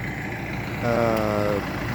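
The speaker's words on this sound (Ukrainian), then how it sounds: "бігаємо трактором Масей Фергусон" A Massey Ferguson 5711 tractor runs with a homemade sunflower-stubble shredder on its first outing, its steady engine drone rising briefly into a stronger, tonal note midway before settling back to a low idle hum.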